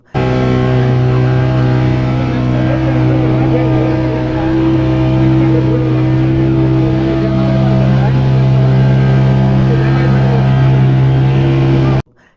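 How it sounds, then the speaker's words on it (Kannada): A small motorboat carries passengers across the sea to St Mary's Island off Udupi. Its engine gives a loud, steady droning hum that stays constant for the whole ride and stops abruptly at the end. "ಈಗ ನಾವು ಸಣ್ಣ ಬೋಟಿನಲ್ಲಿ ಐಸ್ಲ್ಯಾಂಡ್ ದ್ವೀಪಕ್ಕೆ ಹೋಗುತ್ತಿದ್ದೇವೆ"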